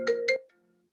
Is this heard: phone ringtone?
yes